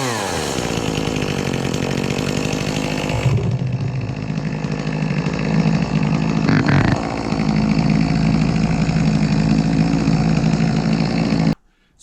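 An Echo 2511T chainsaw engine, recently tuned, runs loud and steady close by; its pitch drops as it settles to idle after about three seconds, with a brief rev near seven seconds, then it cuts out abruptly at the end.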